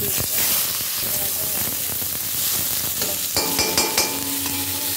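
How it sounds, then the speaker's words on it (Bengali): Chopped onions with whole cumin and a dried red chilli crackle and hiss in hot oil, with repeated spatula scrapes against the pan growing more prominent toward the end, close and steady. "পেঁয়াজটা ভাজা হয়ে গেছে"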